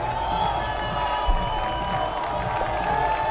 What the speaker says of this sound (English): Crowd getting behind the engineer defense.